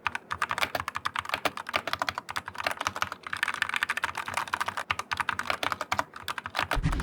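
Fingers typing fast on a mechanical keyboard, a dense run of sharp, close key clicks with short pauses, loud and alone without speech.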